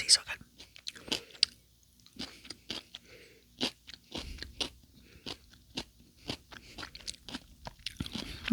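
Someone chews sweet and salty food with rice close to the microphone, quiet crisp crunches and wet bites repeating unevenly with soft breathy sounds between.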